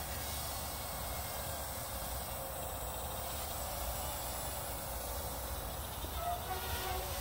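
A thin, continuous insect-like buzz of a small QC 360 A1 2.4 GHz toy quadcopter hovers at a distance over steady low background noise.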